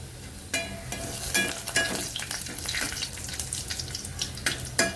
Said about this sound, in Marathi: लसूण थोडंसं लालसर होईपर्यंत भाजून घ्यायचं